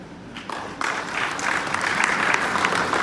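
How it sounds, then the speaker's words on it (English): A room full of people applauds for Paul, the clapping starting light and building into a steady, fuller round over a few seconds. "Feel a lot of love in the room with that clap there."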